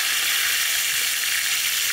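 A rohu fish fries in hot oil, giving a loud, steady, close sizzle that crackles without a break and has no voices over it.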